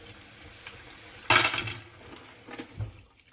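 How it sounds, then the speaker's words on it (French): Mussels are rinsed in water: a sudden splash and sloshing, then smaller splashes and a soft clatter of shells, all close and fairly quiet. "Lorsque vous avez tout nettoyé, vous rincez une dernière fois, histoire de la propreté."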